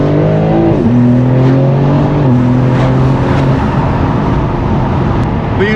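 A BMW G82 M4 fitted with a very loud aftermarket exhaust drives hard, its engine note climbing and dropping through gear changes in a steady, close, continuous roar with audible intake noise.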